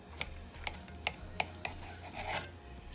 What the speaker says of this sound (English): It's the first slice.